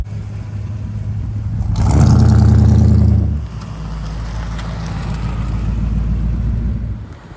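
An all-original 1962 Chevrolet Impala with 42,000 miles runs while being driven, its engine rumbling steadily and swelling into a louder rev for a couple of seconds before settling back to a cruising drone.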